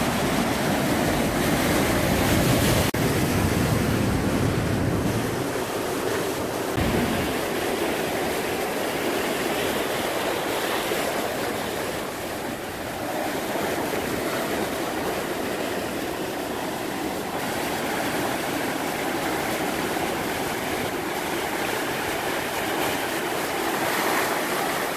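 Ocean surf along a rocky shore, a steady loud wash of breaking waves rolling on throughout with no pauses.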